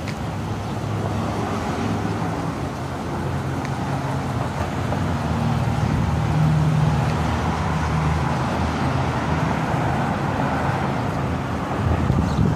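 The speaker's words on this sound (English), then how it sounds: "I'm terribly sorry if you're hearing a lot of wind." Heavy wind buffets the microphone in a constant low rumble and roar beside a Suzuki Grand Vitara 4x4, with faint traffic noise underneath and no clear speech.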